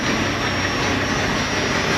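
An engine runs at a steady, loud, even roar that holds without change after starting, with no voices over it.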